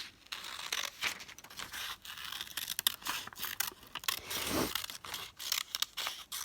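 Small scissors cut paper into flower petals: repeated short snips and crisp paper rustles come in quick, irregular bursts, close and fairly quiet.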